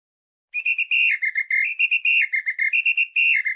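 A shrill whistle is blown in a rapid series of short and longer blasts, loud and close, after a moment of silence.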